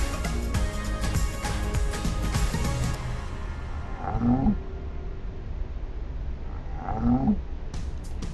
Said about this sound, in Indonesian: Suaranya lebih cepat mengaum